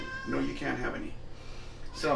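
A pet cat meows insistently for herring in a kitchen where a Danish open-faced herring sandwich is being made on rye, with a few clear meows close by and a person speaking over them.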